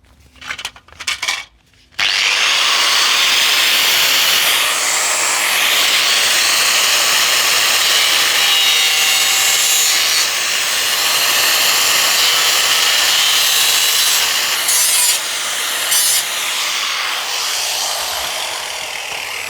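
A power tool cutting around the lip of a plastic ventilator duct, a loud, continuous grinding-saw whine that runs steadily for many seconds after a few short starts.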